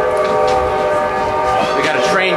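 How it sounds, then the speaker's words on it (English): A train passes nearby with a sustained, tonal horn blast over rumbling wheels, loud and steady throughout, with a voice audible underneath. "we got a train coming here."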